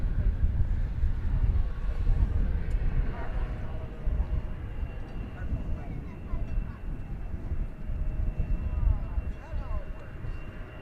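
A wide-body jet airliner departs Dallas Fort Worth bound for Tokyo Haneda, its engines giving a steady, broad rumble that holds for the whole stretch, mixed with wind buffeting the microphone.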